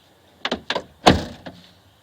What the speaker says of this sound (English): Make sure there's nothing blocking closing the door.